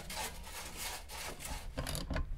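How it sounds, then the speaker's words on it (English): Emery cloth rubs back and forth over copper pipe ends in quick, scratchy rasping strokes, close and fairly loud with no talk. "With the emery cloth, just clean up both of those pipes for the first inch or so."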